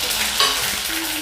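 Hot oil sizzles and crackles steadily as cinnamon, fennel seeds and mustard seeds are stirred in a pan, a close, bright hiss with small pops.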